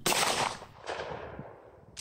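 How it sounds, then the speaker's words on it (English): A Mossberg Shockwave shotgun fitted with an XS Big Dot sight fires two sharp, booming shots close by, each followed by a decaying outdoor echo, with a faint click at the end. "I'm going to shoot a third for good measure here"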